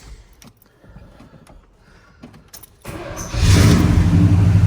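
A Chevy square body K10 pickup's engine cranks after some quiet fumbling and mechanical clicks, then catches and settles into a loud, steady idle close by.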